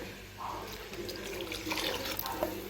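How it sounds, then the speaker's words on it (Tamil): Half a cup of water pours into a mixer jar for a few seconds, a steady close splashing gurgle with no talking. "இப்போ இதில் பார்த்திங்கன்னா அரை கப் தண்ணி சேர்த்துக்கலாம்"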